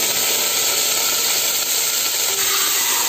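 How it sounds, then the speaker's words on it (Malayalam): Mustard seeds crackling in hot oil for a home-style Kerala rasam, a steady dense sizzle and hiss with scattered tiny pops running the whole time, close and fairly loud, with no talking. "അപ്പൊ കടുക് പൊട്ടി."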